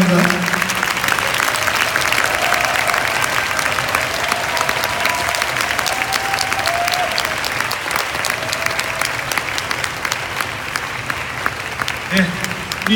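Sustained audience applause at a 2018 CARP youth lecture event, a dense, steady wash of many hands clapping close and loud throughout, with a voice briefly audible near the end.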